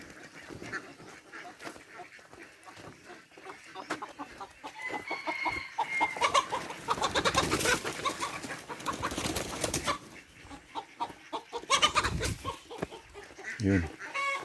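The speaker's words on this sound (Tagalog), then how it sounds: "Itong mga manok na to, pinapalabas na sila," Chickens cluck and squawk in a farmyard alongside two-month-old ducklings, starting faint and growing louder and busier midway with bursts of close calls and flapping.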